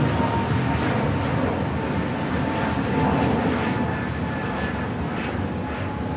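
ITA Airways Airbus A350-900 departing for Rome, a steady jet engine roar at moderate level with a faint whine riding on top, continuous throughout and without speech.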